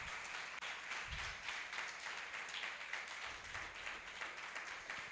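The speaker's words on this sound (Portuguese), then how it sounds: "Aplauda bem forte o nome do Senhor Jesus, igreja." A church congregation applauds during an evening worship service, a steady, even wash of many hands clapping, faint and somewhat distant, lasting throughout.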